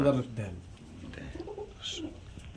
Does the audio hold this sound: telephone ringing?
no